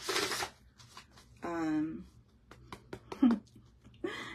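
Tarot cards riffled in a quick pre-shuffle, a short papery burst at the start, with someone talking softly over and after it.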